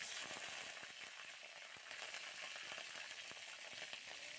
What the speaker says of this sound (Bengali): আমি তেলটা গরম করে নিয়েছি, এবারটা আমি জিরে ফোড়ন দিয়ে নিলাম, লঙ্কা দিয়ে দিচ্ছি, কাঁচা লঙ্কা